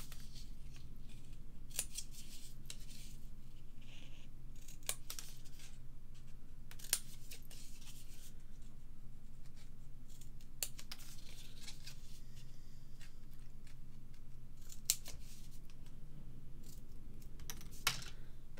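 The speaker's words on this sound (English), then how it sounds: "so just snip off those little corners" Scissors snip the small corners off a paper gift box made to hold Kinder eggs, giving a string of sharp, crisp cuts scattered through a quiet room with no talking.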